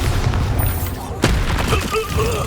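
A Bombarda blast goes off in Hogwarts Legacy as a sharp explosive crack about midway, set against a busy bed of rumbling game effects and low booms, with a voice heard around it.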